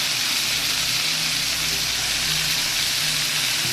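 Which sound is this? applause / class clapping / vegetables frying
vegetables frying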